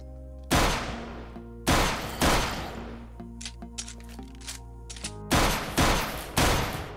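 Gunshots in the space-survival video game AstroBlock 2: five loud, spaced single shots with long decaying tails, with quieter plinking game effects between the middle shots.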